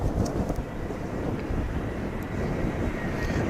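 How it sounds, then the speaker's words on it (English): American Airlines passenger plane arriving from Jacksonville at DFW Airport, a steady broadband roar of jet engines heard from a distance without talk. "Coming in from Jacksonville, it's American Flight 671."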